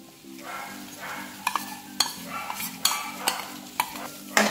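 Yogurt stirred into a besan masala in a pan for dahi bhindi, with a soft sizzle underneath and a series of sharp spoon scrapes and clinks. No one speaks.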